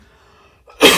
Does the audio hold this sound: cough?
yes